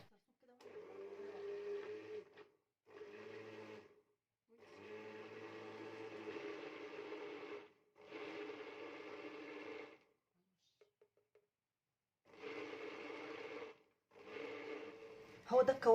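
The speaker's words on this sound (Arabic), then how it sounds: "تضربي في الخلاط لغايه اما تبقى القوام معاكي زي كده" A kitchen blender whirs through a garlic sauce of garlic, salt, vinegar and oil in several bursts of two to four seconds, separated by short pauses, with a clicking sound at the very end.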